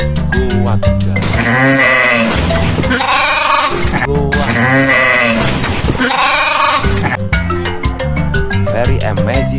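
A toy goat gives out repeated loud, wavering electronic bleats close up, several long calls in a row followed by shorter choppy bursts.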